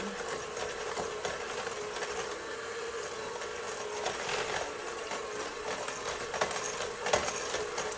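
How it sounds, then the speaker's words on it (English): Stand mixer creaming butter and sugar for walnut butterscotch cookies, a steady close motor whir with a fine rattling texture running evenly throughout, with no talk over it. "If you're using your stand mixer, you want to mix for about 2 to 3 minutes until it gets nice and creamy."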